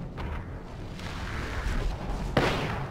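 A frag grenade goes off in Apex Legends amid gunfire, ending in a sharp, close blast with a brief crackle over a dense rumbling battle din.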